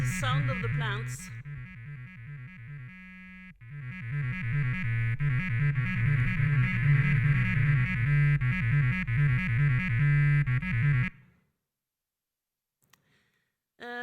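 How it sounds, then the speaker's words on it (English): Sonified plant signals played back as electronic music, a steady rhythmic pattern of pulsing tones and clicks with a low repeating pulse, running loud for about eleven seconds and then cutting to near silence. "This is the sound of the plants."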